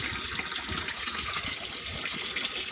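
Tap water gushes steadily from an opened valve into a frog pond, a continuous loud rushing and splashing flow with no break.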